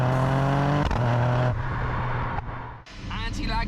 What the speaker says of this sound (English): let's take this GR Yaris out for a test drive